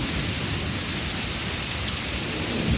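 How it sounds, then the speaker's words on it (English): Heavy rain pours steadily during a strong thunderstorm in Pittsburg, Kansas, a loud, dense, unbroken hiss with no distinct thunderclap standing out and no talking. "that lightning was definitely close"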